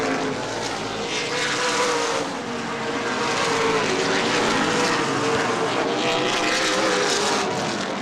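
Late model sportsman race cars roaring around the Angola Motorsport Speedway oval, a loud continuous engine drone that swells slightly as cars pass close by, with faint crowd and track ambience beneath.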